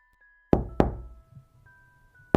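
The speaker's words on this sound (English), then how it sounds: "a young man knocked on her door" Knocking on a wooden door in a fairy-tale setting: two sharp, resonant knocks close together, then a pause and a third knock, over a faint sustained tone.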